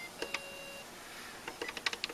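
A Popeye Game & Watch tabletop game gives short electronic beeps, a couple early on and then a quick run of close, clear bleeps at the end.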